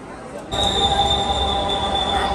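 A Dhaka Metro Rail train rolls in with a loud, sustained high-pitched squeal of wheels on rails over a low rumble, starting abruptly and holding steady.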